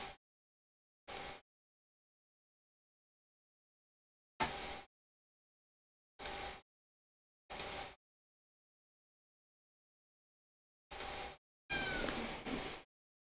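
A house cat meows repeatedly in a quiet room during a tabletop game session, roughly seven separate calls spaced by long silences, the last ones longer and more drawn out.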